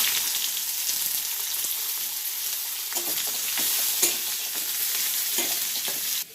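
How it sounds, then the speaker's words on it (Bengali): Onions hit hot oil in a wok, a loud, dense, continuous sizzle with crackling bursts and a few stirring knocks, ending abruptly. "এই দেখো এবার আমি এখানে তেলে পেঁয়াজগুলো দিয়ে দেবো।"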